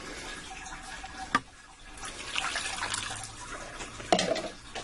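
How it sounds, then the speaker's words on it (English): Water pours steadily into a cooker pot at close range, with a couple of soft clunks along the way. "Now I'm also going to add in there 2 more cups of water."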